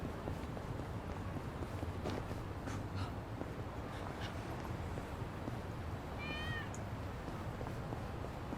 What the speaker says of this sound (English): Cat that likes to wander.